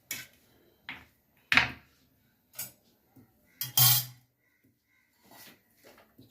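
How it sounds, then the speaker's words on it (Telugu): Kadai (wok) set down on a kitchen stove, with a series of separate metallic clunks and knocks spaced apart and sharp clattering impacts near 1.5 and 3.8 seconds, in a quiet room. "కడాయి పెట్టాను"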